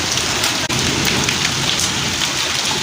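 Heavy rain pours steadily at night around 4:15 in the morning during a strong storm, a loud, dense, unbroken hiss of drops with no voices.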